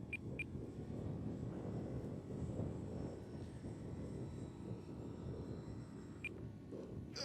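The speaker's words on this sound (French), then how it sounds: "Et là, il y a beaucoup de moteurs en marche dans l'air en même temps." Several radio-controlled model airplanes fly overhead at once, their engines blending into a faint, steady droning buzz heard from a distance, with a couple of brief clicks near the start and end.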